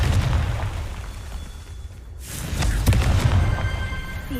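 A blasting spell explosion from Hogwarts Legacy rumbles with heavy low-end roar, dips briefly, then swells again with crackling bursts, loud and sustained over a few seconds.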